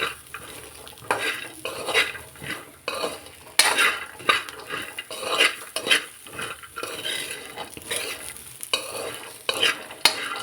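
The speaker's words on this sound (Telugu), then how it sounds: "ఇప్పుడు మనం కొత్తిమీర వేసుకున్నాం కదా, దీన్ని కలుపుకుందాము" A chickpea fry with coriander leaves being mixed in a pan, busy rhythmic scraping and clinking of a spoon against metal over a light sizzle, close and steady throughout.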